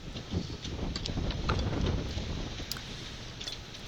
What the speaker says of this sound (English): as the wind gusts get up a little bit more in Myrtle Beach